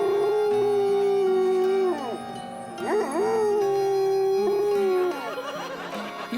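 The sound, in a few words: dog howling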